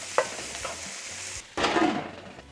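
Onions, peppers and broccoli sizzle in a pan as they are stirred, a steady frying hiss with a few scraping stirs, a short lull, then a louder burst of sizzling.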